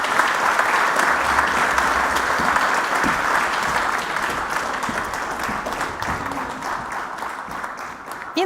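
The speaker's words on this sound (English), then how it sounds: "please give them a warm applause" Warm, sustained audience applause at a Nordic army defence summit, dense clapping from a large crowd that holds steady and slowly thins toward the end.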